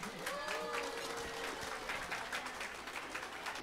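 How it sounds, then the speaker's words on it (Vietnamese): Audience at a celebration banquet for the nail industry clapping for a family, a short burst of crowd applause with some voices mixed in, steady and fairly close throughout. "Xin tất cả quý vị tặng cho gia đình Anna Bùi và em Alice một tràng pháo tay."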